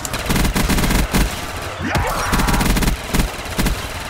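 Death Machine minigun from Call of Duty Black Ops 2 Zombies firing in continuous loud rapid bursts, a dense rattling stream with brief gaps, on a Minecraft-styled custom zombies map.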